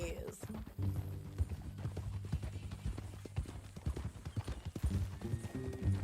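Hooves clip-clopping in Red Dead Redemption 2, a brisk, steady, fairly close beat of hoofbeats carrying on throughout beneath low music and a faint voice.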